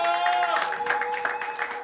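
A church congregation applauds during a Sunday service, a steady wash of clapping from many hands that lasts throughout. A sustained tone and voices sit underneath.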